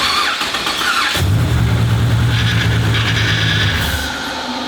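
A Ford XR6 ute engine cranks and fires for the first time, catching after about a second and settling into a steady, loud idle hum that sounds close, with no talking.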